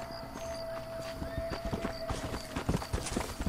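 Horse hooves clip-clop at a walking pace in the Western video game Red Dead Redemption, a steady close rhythm of hoofbeats that grows louder and more uneven toward the end.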